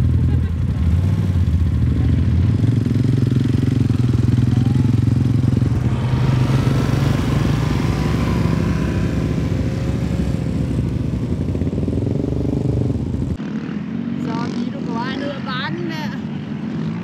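Rented ATV four-wheelers, 99 cc, running on the Oregon Dunes: a loud, close, continuous engine drone with rising revs and mechanical clatter, ending abruptly as voices talk over a fainter idle.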